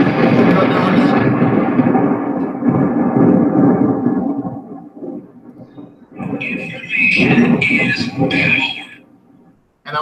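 A thunder sound effect added to a show introduction: a long, deep rolling rumble that fades, then a sharper crackling burst of thunder before it dies away.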